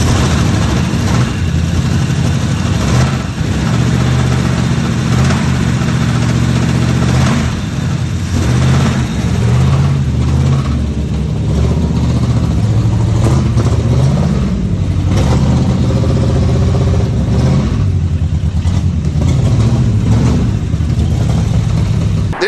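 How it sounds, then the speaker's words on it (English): A 1972 AMC AMX V8 that had sat since 1999, running on a bottle-fed external fuel supply, with a loud, close, steady engine rumble that rises and falls as it is revved. "It fired right up. So the engine does run."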